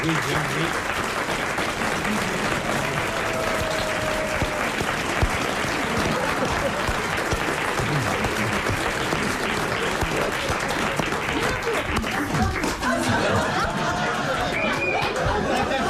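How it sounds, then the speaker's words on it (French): A studio audience applauds steadily and loudly throughout a French radio comedy panel show, with crowd chatter mixed into the continuous clapping. "Tu vas voir, je vais avoir des applaudissements plus forts que les tiens."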